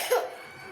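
A girl gives one short, close cough that quickly fades into quiet room tone.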